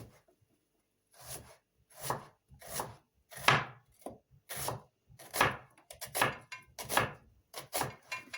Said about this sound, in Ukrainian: Ось так нарізаємо полукольцями.